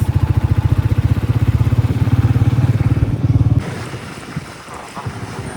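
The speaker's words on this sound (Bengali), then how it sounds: "আজকে বাইকে যেতে ভালো লাগছে।" A motorbike ridden along a city road, its engine droning steadily up close with wind buffeting the microphone, then the engine note drops away and the rush of wind and traffic carries on more quietly.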